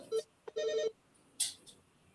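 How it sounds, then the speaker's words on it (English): A telephone rings in short electronic tonal bursts, three clear chirps with gaps between them, sounding like a hospital phone call, fairly close and alone with no talking. "that sounded like a phone call at the hospital"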